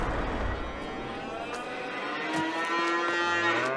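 Cattle in Farming Simulator 22 moo loudly and repeatedly, several drawn-out calls overlapping with no talk, as a large herd sounds off together.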